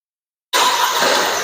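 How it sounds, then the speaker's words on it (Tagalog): A Geely Coolray Sport's engine fires up abruptly after silence and settles straight into a steady, close, moderately loud idle. "nag-start na yung makina"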